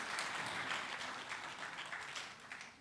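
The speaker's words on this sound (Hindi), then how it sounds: "इन सारे बच्चों के लिए बहुत ज़ोरदार तालियां होनी चाहिए।" At a literature festival poetry session, a distant audience gives a faint, sustained round of clapping for the festival team, heard alone and slightly fading.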